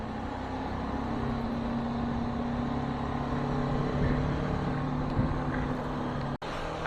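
A BMW G 310 GS motorcycle rides a highway at night, its engine droning steadily under wind rush with distant traffic below, a brief dropout near the end.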